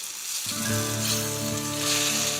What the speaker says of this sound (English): let the spaghetti finish cooking in the sauce itself